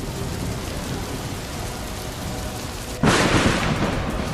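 A pre-monsoon thunderstorm in Gujarat brings steady wind-driven rain, then a loud, sudden thunderclap about three seconds in that leaves a heavier, brighter roar of rain.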